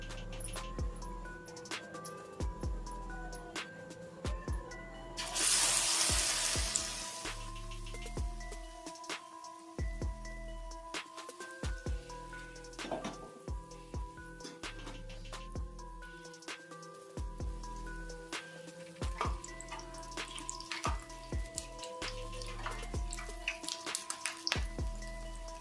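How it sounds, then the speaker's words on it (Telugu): Potato bajji fritters in batter fry in hot oil on a stove, giving a soft scatter of crackling pops and drips, with a brief louder hiss early on as the batter hits the oil. "ఇప్పుడు ఆలు బజ్జీ వేసుకుందాం."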